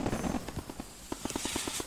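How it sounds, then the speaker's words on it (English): Fireworks burst in the Roblox Bloxburg roleplay game, a quick string of sharp crackling pops and bangs in steady rhythm over two seconds, fairly loud with no talk. "some fireworks"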